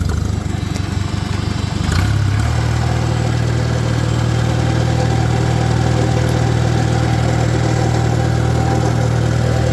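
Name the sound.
1949 Farmall Super AV high-clearance tractor engine running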